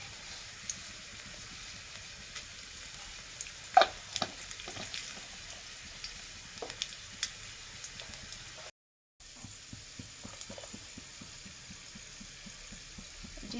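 Chopped onion, dried red chilli and bay leaf fry in hot oil with a soft, steady sizzle and scattered pops and stirring taps, fairly quiet and close, briefly cut by a short gap.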